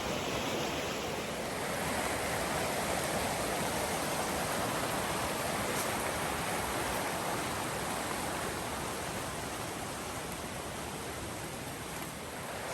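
Steady broadband rush of stream water flowing at a river crossing on the Ozark Highlands Trail, continuous and fairly loud with no talk.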